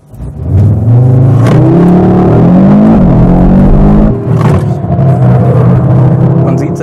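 A 2022 Audi RS3 in Drift mode, with a rear torque-splitting drivetrain, accelerates and slides through a left turn. Its engine revs loud and close, rising and falling in pitch, with a rumbling, whirring tone and tire noise.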